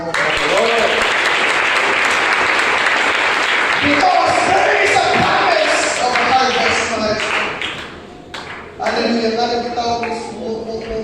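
A church congregation breaks into applause during a sermon, dense clapping that stays strong for several seconds before thinning, with voices and some music-like tones mixed in near the end.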